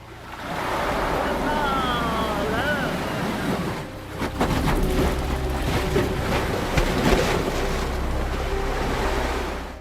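The tidal bore of the Qiantang River breaking against a stone embankment, a loud, continuous roar of surging water and spray with wind buffeting the microphone and faint voices in the background.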